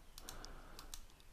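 Computer keyboard keys pressed while working in 3D modelling software: a few quick, light, close clicks in a quiet room.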